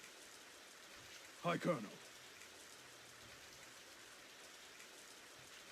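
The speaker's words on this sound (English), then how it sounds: "It started to rain." Steady rain hiss from the video game Radiant Historia runs evenly throughout at low level, with a brief spoken greeting over it near the start.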